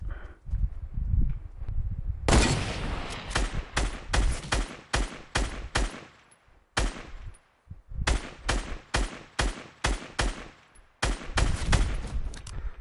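Rapid bursts of automatic gunfire from the Fortnite video game, loud and close, come in several volleys with brief gaps between them and no voice over them.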